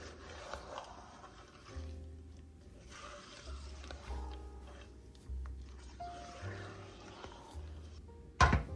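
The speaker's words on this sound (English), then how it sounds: "So I am going to stir this around." A spatula scrapes and stirs thick peanut butter cake batter in a crockpot, soft rubbing and dragging strokes at a slow rhythm, close and quiet, ending with a sharp clack.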